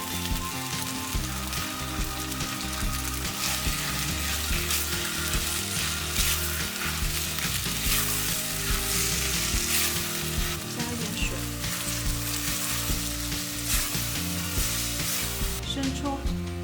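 Rock sugar sizzles and fries in a hot pan while being stirred, a steady dense crackle with scraping stir strokes that continues throughout, close and loud with no talk.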